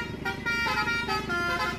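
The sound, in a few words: Basuri telolet bus horn playing in a traffic jam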